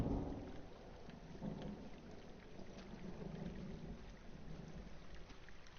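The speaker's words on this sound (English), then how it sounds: "Jeez, you can hear the thunder." A low, rolling rumble of distant thunder builds and swells under wind noise in the forest setting of the video game Firewatch, with no talking.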